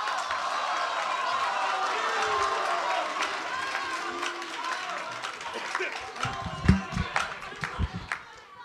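Crowd at a crosstalk comedy stage show applauds as a performer is welcomed on, a sustained wash of clapping and murmur that thins out and ends in a few louder scattered claps.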